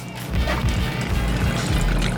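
Hennessy cognac and Palmer liqueur pour over a cup of ice, a close, continuous liquid splash with faint clinks and gurgles throughout.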